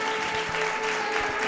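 A church congregation applauding Jesus at a Portuguese-language service, brief dense clapping with a steady tonal hum underneath, moderately loud throughout.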